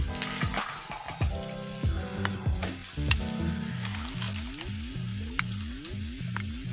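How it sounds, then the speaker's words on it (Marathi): Methi thepla (dhapate) roasts on a hot pan with a steady, close sizzle, broken by scraping and clinking of a spatula and a run of quick rhythmic rasping strokes near the end. "दोन्ही साईडला आपल्याला व्यवस्थित भाजून घ्यायचं."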